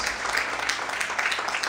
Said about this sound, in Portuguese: Mais fortes as palmas, aleluia.